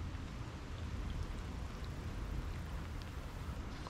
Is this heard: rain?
yes